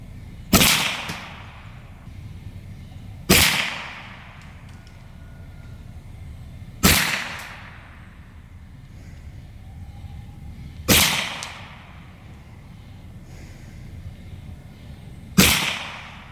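A semi-automatic Evanix MP30 Viper air gun, charged from a full gas tank, fires 44-grain JSB pellets at a target 21 yards away. Five sharp, loud cracks come a few seconds apart, each trailing a brief decay, with no talking between shots.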